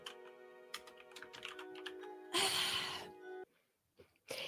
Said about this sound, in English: he's busy typing on his keyboard